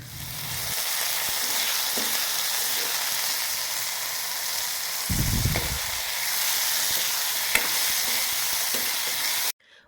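Continuous loud sizzling of food frying in a wok, with occasional stirring clinks and scrapes, no talking.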